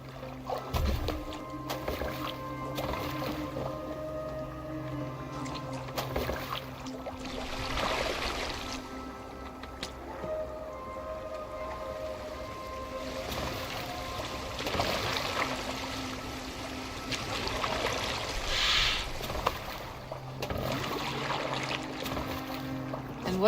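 Oars pull a boat across water in the Assassin's Creed Valhalla game world, with a steady run of splashing and trickling strokes under a continuous low background hum, fairly close and moderately loud throughout.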